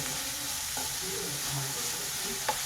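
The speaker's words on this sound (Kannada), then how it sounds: "ನೋಡಿ, ಈರುಳ್ಳಿ ಫ್ರೈ ಆಗಿದೆ" Onions frying in a pan with a little salt for a mushroom masala, a steady close sizzle with occasional scraping stirs of a spoon against the pan, no talk.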